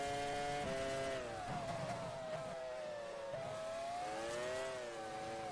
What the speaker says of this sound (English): The engine sounds really strange there.